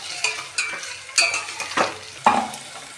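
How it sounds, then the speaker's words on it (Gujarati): Potatoes and onions frying in a pan with curry leaves are stirred with a utensil, several distinct scraping strokes over a soft sizzle, close and clear with no talk. "આ બંનેને હલાવવાનું છે"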